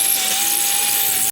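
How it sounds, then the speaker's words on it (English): A power drill drives screws into a wooden deck gate frame of 2x4 and 1x lumber, a steady high whine running continuously close by and cutting off sharply at the end. "so we'll go ahead and drill the rest of them and tighten everything up"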